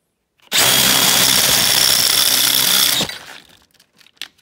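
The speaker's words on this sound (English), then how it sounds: "Here we go, the new drill, the brand new drill bit, and watch this." A new power drill with a new bit whirs loudly at a steady speed for about two and a half seconds, then spins down, followed by faint clicks.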